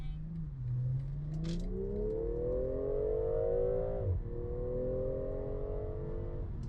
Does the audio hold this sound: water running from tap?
no